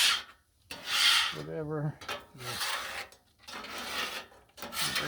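A metal spatula rasps across a Blackstone griddle, scraping off leftover bacon in several hard, gritty strokes separated by short pauses, close and loud, with a brief spoken word in between.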